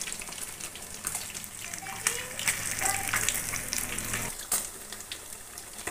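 Fish roasts in hot oil in a pan with a continuous crackling sizzle and occasional utensil clinks, close and moderately quiet.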